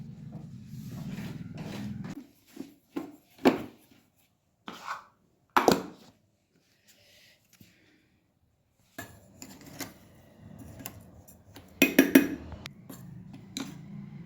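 Sesame seeds are coarsely ground for a Makar Sankranti sweet, giving close, crunchy bursts of grinding, a longer stretch at the start and another near the end, separated by short scrapes and near-silent pauses.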